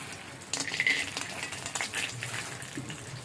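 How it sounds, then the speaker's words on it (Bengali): Masoor dal bori frying in hot oil in a pan. A sizzle starts abruptly after a short quiet moment and continues steadily, with light stirring and utensil scrapes, close up. "এবার বড়িটাকে ভেজে নেবো"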